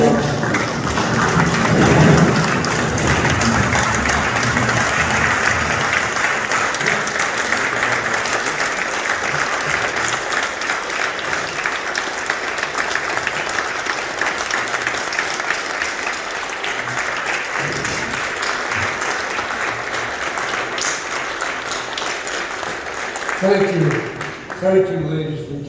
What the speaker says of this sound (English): I can tell by your applause that you subscribe to our suggestion